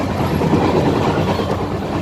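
The Haripriya Express rolls toward Kolhapur, a steady, loud rumble of carriage wheels on rails filling the whole stretch without pause and with no voices.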